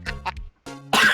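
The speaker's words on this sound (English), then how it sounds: "I was just fucking dying of coughing" A couple of short, harsh coughs close to the microphone, then a brief pause and a louder burst of throaty noise.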